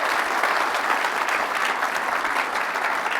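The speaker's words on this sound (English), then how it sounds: "Huge round of applause for them because they make this all possible" Audience applause in an auditorium at the Planet Forward Summit 2025, a thick, even wash of many hands clapping continuously from start to finish.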